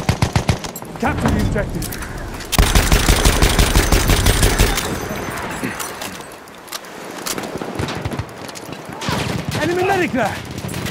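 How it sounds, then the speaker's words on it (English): Machine gun fire in the video game Battlefield 1, Operation Zeebrugge multiplayer: repeated rapid bursts and a long sustained automatic stream, mixed with other gunfire and battle noise, with shouted voices over the action. "Machine gun, hostile!"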